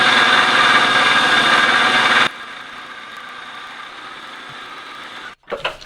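A power drill bores holes in a metal block for rack mounts on a BMW E46 M3 restoration, a loud steady whine for a couple of seconds, then a quieter hum and brief clatter at the end.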